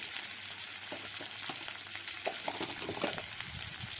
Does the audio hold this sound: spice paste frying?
yes